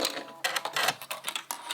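Sewing machine running a straight stitch along a doll skirt hem, with short bursts of rapid mechanical stitching and brief pauses, close and fairly quiet, no talking.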